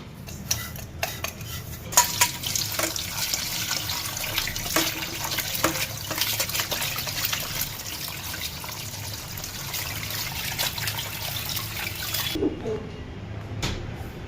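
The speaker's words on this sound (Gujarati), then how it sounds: "ધાણા મેથીનું આ રીતનું કટિંગ થઈ ગયું, હવે આને ધોઈ નાખીએ" Chopped coriander and fenugreek leaves washed under a running kitchen tap, with steady water splashing and frequent clinks of a steel bowl and utensils, ending abruptly near the close.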